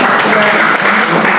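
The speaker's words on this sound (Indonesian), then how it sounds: "Berikan tepuk tangan juga." A church congregation applauds during a worship service held in a Jakarta apartment. The clapping is dense and loud, and it continues steadily from start to finish.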